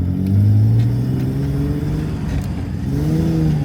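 A rare imported manual-transmission car pulls away close by, its engine rising in pitch as it accelerates, easing off, then climbing again.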